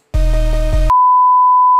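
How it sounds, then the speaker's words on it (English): A deep, booming 808 bass note sustains under a repeating pattern in a hip-hop beat for just under a second, then cuts off, leaving a steady thin tone alone. "here's what the 808 pattern is."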